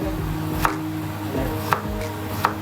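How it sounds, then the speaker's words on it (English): A knife slices thin rounds of beetroot on a cutting board, three sharp, evenly spaced chops standing out over a quiet kitchen background. "We cut thin slices of beetroot."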